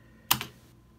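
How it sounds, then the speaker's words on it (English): A Devastator 2 keyboard gives off a single quick double-clack of keys, crisp and close, in an otherwise quiet room. "Devastator 2 keyboard."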